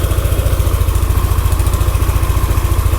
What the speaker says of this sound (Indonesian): Tapi ini suaranya mestinya masih halus mesinnya